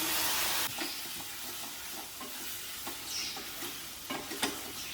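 Chicken sizzles and fries in a hot pan, a loud hiss at first that settles into steady crackling with a few stirring scrapes.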